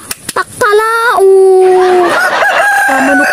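A person imitating a rooster crowing, loud and close: a few sharp clucks, then a long drawn-out vocal cock-a-doodle-doo with wavering pitch, ending in a lower trailing call.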